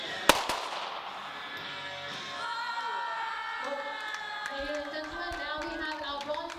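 Cheering crowd at a mixed 25m pistol SH1 shooting final in Cheongju, a steady roar with a sharp pop near the start, continuing at even loudness throughout.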